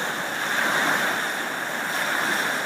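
Ocean surf washes in a steady, unbroken roar with a soft hiss, moderately loud and with no voices over it.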